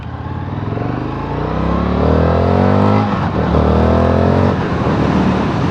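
A 2023 Indian FTR1200 motorcycle pulls away from about 20 mph, the engine note rising loudly and steadily through a gear change, close up with wind rush and no talking.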